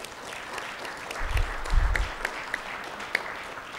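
An audience applauds Dana Buchan, Romanian Honorary Consul to Connecticut, at a panel on the Ukrainian displacement crisis; steady moderate clapping through the whole stretch with a few louder bursts near the middle.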